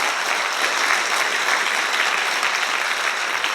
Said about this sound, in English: I think you should give us all a round of applause